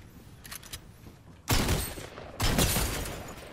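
Gunfire in the video game Fortnite: two loud, dense bursts of rapid shots, each lasting about a second, over faint background game noise.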